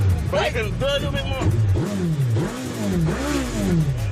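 Motorcycle engines rev repeatedly with rising and falling whines, loud and close, under continuous talk during a charity ride in England.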